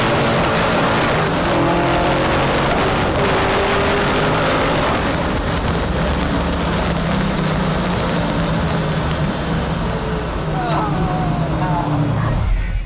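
A loud, roaring 1407 hp Pontiac Trans Am engine runs continuously with shifting pitch as it revs and accelerates, dense and close throughout.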